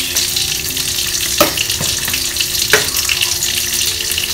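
Scrambled egg fries in a hot pan with a loud, steady sizzle, broken by a few sharp scrapes of a utensil stirring against the pan.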